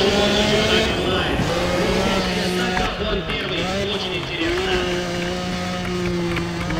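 A car engine roars in the Need for Speed ProStreet racing game, a loud, continuous revving drone with shifting pitch, as someone talks over it.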